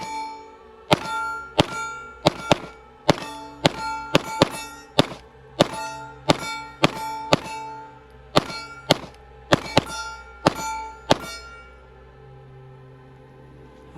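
Sig P320 pistol with a Spectre Comp compensator firing on a range, a string of sharp, loud, ringing shots alternating singles and quick double taps, with brief echoing decays and a quiet end.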